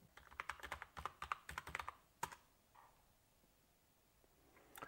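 Quick clicky keystrokes on a computer keyboard at a Raspberry Pi 5 login, a fast close burst of typing followed by a few isolated key presses and then quiet.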